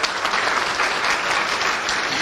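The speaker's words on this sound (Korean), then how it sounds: "축하의 의미로 박수 한번 보내주시죠" Audience applause for a young child at a church thanksgiving celebration evening, a dense, even wash of many hands clapping throughout, loud and sustained.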